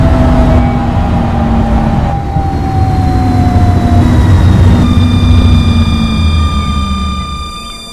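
A London tram running between Lloyd Park and Mitcham Junction in a Croydon transport game, with a loud rolling rumble, a rising whine of traction motors and steady rail noise, no voices.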